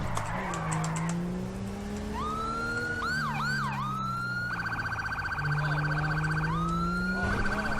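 Custom modded police siren in the video game GTA V with the LSPDFR mod, shifting between rising wails, quick yelps and a rapid pulsing tone, loud and close over a low engine drone.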